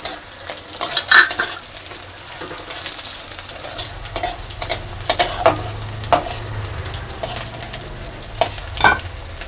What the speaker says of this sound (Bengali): আদা ভাজা হয়ে গেছে, ওর সঙ্গে আমি কাঁচা লঙ্কাগুলো দিয়ে দিলাম।